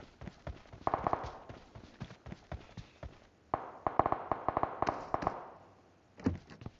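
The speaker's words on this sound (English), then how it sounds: "How am I able to hear the gunshots that far away?" Scattered sharp pops and cracks of distant gunfire in PUBG Mobile come in irregular bursts with brief quiet gaps between them.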